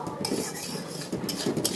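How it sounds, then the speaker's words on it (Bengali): Lentils frying in mustard oil in a pan for khichuri while being stirred constantly, close metallic scraping and clinking of a spoon against the pan over a soft sizzle, in two bursts of stirring. "ডালটা দিয়ে সুন্দরভাবে কিছুক্ষণ ধরে আমি ভেজে নেব"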